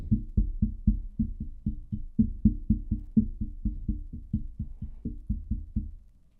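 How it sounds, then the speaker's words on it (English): Quick, even series of hollow knocks on a dynamic microphone's desk stand, resonant and ringing slightly, continuing steadily before stopping at the end. "Now if I start tapping the stand itself,"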